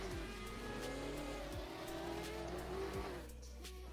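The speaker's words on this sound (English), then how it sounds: "We're revving engines." Race car engines drone and rev together at the starting line of an SRDL racing competition, a steady loud roar with rising whines before easing as the cars pull away.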